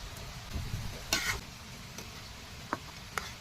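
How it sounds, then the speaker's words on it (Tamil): Ginger-garlic paste, tomato, green chili and salt are stirred in a pan for a spicy pork fry, a faint soft sizzle with scraping strokes and a few sharp ticks of the spoon. "நல்லா அடி பிடிக்காம நல்லா கிண்டி விட்டுக்கலாம்"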